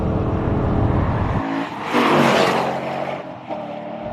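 A Nissan 240SX project car's engine revs loudly and steadily, its pitch climbing and falling through the gears, close up with a whirring drivetrain beneath.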